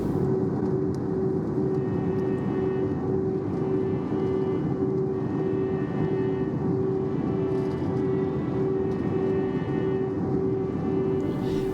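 A steady cabin drone and engine hum fill the inside of a British Airways A319 airliner descending toward London Gatwick, constant and even throughout with a faint tonal whine and no voices.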